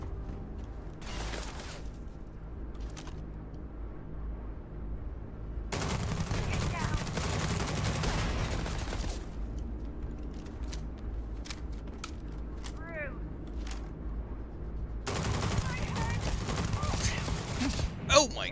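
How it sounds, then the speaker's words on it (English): Bursts of gunfire in the video game Starfield come in several separate volleys, loud and rapid, with someone talking and reacting between and over them. "Oh my god, those shots hurt."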